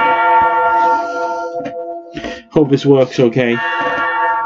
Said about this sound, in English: The bells toll.